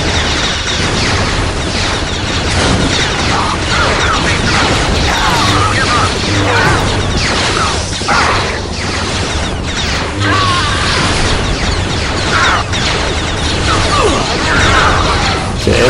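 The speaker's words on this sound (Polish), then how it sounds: "Jestem z cholerną armatą." Cannon fire from a gun emplacement in Star Wars Jedi Knight II, loud booming blasts and mechanical clatter packed densely under a continuous wash of game noise throughout.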